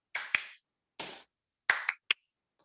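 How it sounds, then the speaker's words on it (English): A handful of sharp, close hand claps during a laughter therapy exercise, about six separate hits in short clusters with silence between them. "So follow my lead, clap in rhythm."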